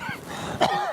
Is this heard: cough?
yes